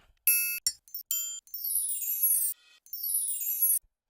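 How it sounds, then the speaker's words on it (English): Bright tinkling chime notes in a beat sample, a few quick struck tones followed by two longer shimmering sweeps, clear and alone with no talk. "There's a little chime in there,"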